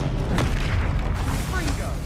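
Magical spell blasts from the video game Hogwarts Legacy, with booming, rumbling explosions and impacts sounding loud and continuous over a dense roar, shouted spell names audible amid the bursts.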